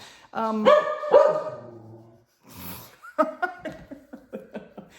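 A dog barks a few times in close, loud bursts, with breathy laughter and light voices mixed in around the barks.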